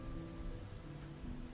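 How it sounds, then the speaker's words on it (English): Steady rain falling on a surface, a soft continuous wash of patter heard alone at low level with no voices. "It is raining."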